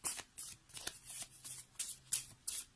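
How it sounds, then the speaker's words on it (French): A deck of tarot cards shuffled and cut by hand, giving a run of quick riffling bursts about every half second, soft and close with no talking. "Je pense que je vais devoir couper mon jeu."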